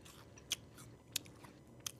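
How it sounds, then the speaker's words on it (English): Three sharp, close crunches as an Apple Pie KitKat is bitten and chewed, evenly spaced over a quiet background with soft mouth sounds between them. "Listen to the crunch."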